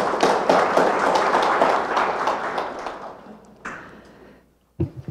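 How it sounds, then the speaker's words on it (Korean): Big round of applause from an audience at a national assembly policy forum on national university legislation, welcoming a speaker; dense clapping fills most of the stretch, then fades, with a brief tail and a short voice at the end. "큰 박수로 환영해 주십시오"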